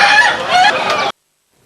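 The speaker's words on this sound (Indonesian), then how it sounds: "Salah satu peserta kontes ayam ketawa adalah ayam asli dari Kabupaten Sidrap, Sulawesi Selatan." An Ayam ketawa, the Indonesian laughing chicken, crowing at a contest: one loud, close, warbling crow lasting about a second, then abrupt silence.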